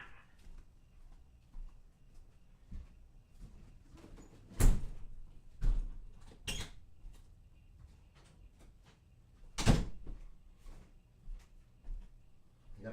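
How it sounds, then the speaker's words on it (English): Several doors shut one after another indoors, with sharp thuds near 4.7, 5.8, 6.5 and 9.7 seconds over a quiet room background. "I gotta close 3 doors just to put the air on."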